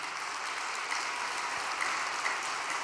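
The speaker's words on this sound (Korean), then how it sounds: "여러분 축하의 박수 올려주시면 고맙겠습니다" An audience at a Korean prayer and training gathering breaks into steady, moderate applause, sustained clapping from a crowd heard at some distance with no voices over it.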